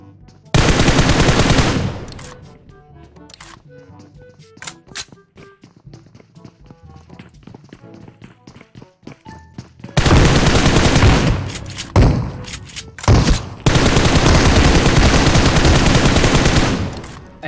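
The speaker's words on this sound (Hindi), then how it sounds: "यहाँ पे बॉट फायर दे रहा हूँ" Automatic gunfire from a bot in a shooter video game at a military base factory, loud sustained bursts opening and closing the stretch, with scattered lighter shots and taps in between.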